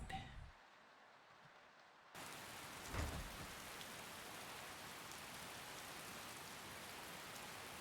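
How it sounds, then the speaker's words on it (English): Steady rain pours down in a video game, a quiet patch at first then a dense, even hiss of falling drops with a brief louder rumble, continuing without voices. "And it is raining."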